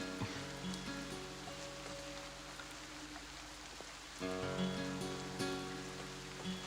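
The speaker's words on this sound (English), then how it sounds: "So the rain starts letting up" Steady rain patters and hisses on a surface throughout, with sustained musical tones beneath it and a slight swell in loudness near the end; nobody speaks.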